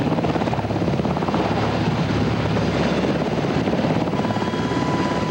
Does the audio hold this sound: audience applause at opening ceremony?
no